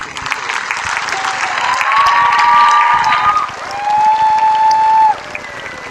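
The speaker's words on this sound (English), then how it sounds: "please give a round of applause to the graduating class" Applause and cheering for the graduating class fill a commencement hall, a loud sustained crowd roar with scattered shouts and a couple of whistles rising over it, swelling and then easing near the end.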